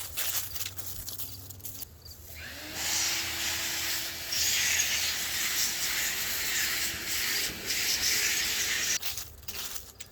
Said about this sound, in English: I'm gonna run over here and use my leaf blower and just blow out some of it